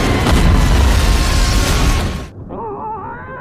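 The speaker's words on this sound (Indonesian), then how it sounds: "kereta itu pun langsung meledak" Loud, roaring explosion of a train in a film, a sustained broadband blast lasting about two seconds before cutting abruptly to a quieter, wavering tonal sound.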